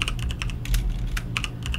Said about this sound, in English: I can simply start typing